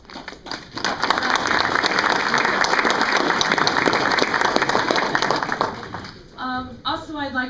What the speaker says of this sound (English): So first of all, I want to give you a round of applause.